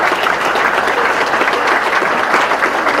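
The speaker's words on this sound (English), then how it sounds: "a little round of applause." Sustained audience applause fills an evening senior awards ceremony at a high school, a dense, steady wash of many hands clapping at close range without pause.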